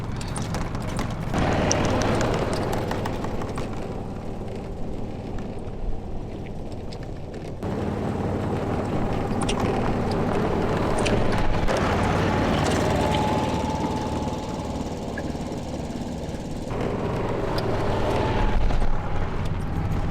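An inexpensive fixer-upper golf cart with a dirty carburetor rolls slowly, its engine droning steadily with some rattling, shifting in tone a few times over twenty seconds.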